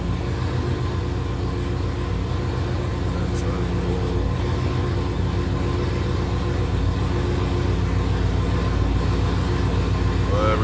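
Idling Dodge Hellcat V8 engine with oil pressure settled at 66 psi, a steady low rumble holding even and constant throughout without revving.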